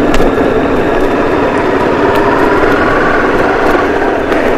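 A motorbike engine idling and puttering steadily near a beach food joint while the bike is parked, loud and continuous with no talking.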